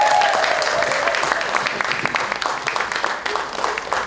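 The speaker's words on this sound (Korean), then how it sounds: "박수 한번 나와야 됩니다." Applause from an audience of about 200 at an academic colloquium, a steady wash of many hands clapping close and fairly loud throughout, with a voice faintly audible underneath.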